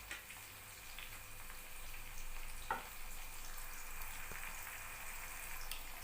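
Green bell pepper cooks in a pan with a soft, faint, steady sizzle and a few small pops, heard alone with no talking.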